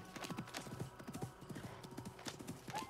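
Horse hooves in the video game Assassin's Creed Mirage clip-clop in a quick, steady trotting rhythm along a road, close and continuous throughout, with a faint whinny-like sound near the end.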